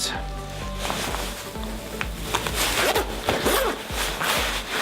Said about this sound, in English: Zipping it up a bit